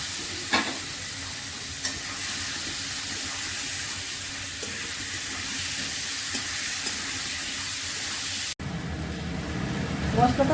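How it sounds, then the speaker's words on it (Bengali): Papaya and spices fry together in a pan, making a steady sizzle for most of the stretch with occasional scrapes of stirring, before it breaks off and a louder, busier kitchen sound with talk follows. "পেঁপেটা দিয়ে দিলাম, একসঙ্গে কষিয়ে নেব।"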